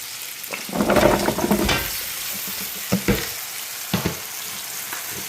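Cut vegetables and onions frying in oil, a loud burst of sizzling as they hit the pan, then a steady hiss with a few clattering stirs, close and without talk.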